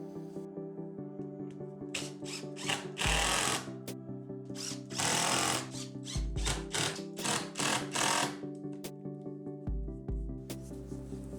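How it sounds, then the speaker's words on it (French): A Mesa 4 CNC router cuts 16 mm plywood with a steady motor whine, broken by repeated loud, gritty bursts as the bit bites into the wood, close and continuous. "Aujourd'hui, j'utilise une machine en pension temporaire dans l'atelier, la Mesa 4 de Mesa CNC."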